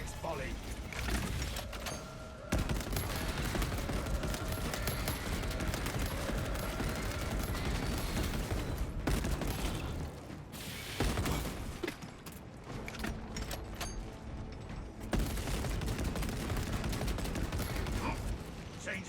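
Weapons volley in a Warhammer 40K shooter: repeated loud bursts of rapid fire rattle almost continuously, broken by short pauses, with mechanical clanks and voices mixed beneath the barrage.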